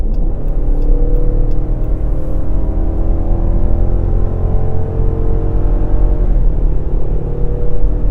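A 2017 Dodge Durango RT's engine surges under hard throttle, a loud rising growl that climbs for several seconds, then shifts and keeps building over steady road rumble, with no one speaking.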